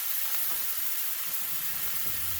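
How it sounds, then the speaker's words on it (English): Minced garlic sautés in a hot pan with a constant bright sizzle, close and steady, with faint stirring bumps beneath. "We're just going to saute that real quick until it's fragrant."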